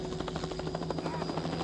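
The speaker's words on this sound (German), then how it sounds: "Helikopter am Start." Rapid, rhythmic rotor thumping of a helicopter in the video game The Last of Us, loud and steady as if passing close overhead, with a constant engine whine underneath.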